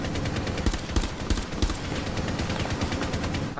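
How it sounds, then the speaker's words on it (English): Automatic gunfire rakes a ceiling skylight in Rainbow Six Siege, coming as rapid, loud bursts of shots that repeat without a break. "Someone's just shooting the ceiling."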